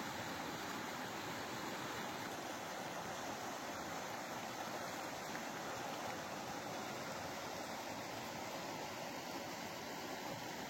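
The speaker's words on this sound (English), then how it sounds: "I'm going to take you down closer to the Cimarron River so you can really hear that rushing" Rushing water of the Cimarron River beside a campsite, a steady broadband roar of the flowing river, loud and continuous with no talk over it.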